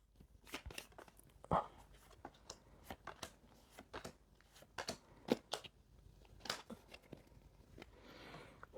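Tarot cards are laid out and arranged on a table: a quiet run of soft slaps, shuffles and paper rustles in an irregular rhythm, close by, with no speech.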